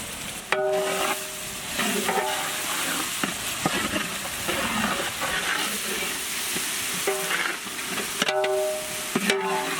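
Coriander paste frying in a pan while being stirred, a steady close sizzle with scraping spoon strokes and occasional clinks of the utensil against the pan.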